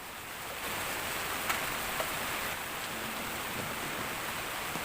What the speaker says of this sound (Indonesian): Hujannya tuh cukup deras juga sih.